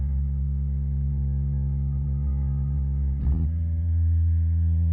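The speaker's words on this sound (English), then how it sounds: "all of that passed into a reverse reverb" A sustained, droning electronic bass loop on a Roland SP-505 sampler with a swelling reversed-reverb wash that briefly sweeps up and cuts off before the loop resumes, loud and steady.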